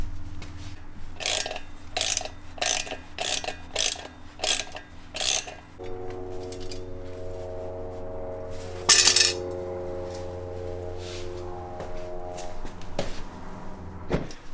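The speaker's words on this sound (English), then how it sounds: "we're just going to unscrew these bolts right here and then get the new one seated in" Wrench work on the brake rotor bolts of a 2009 Yamaha R1 gives a run of regular metallic ratchet bursts, then a looser stretch of clinks and scraping up close.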